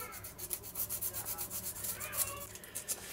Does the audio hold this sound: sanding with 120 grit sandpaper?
yes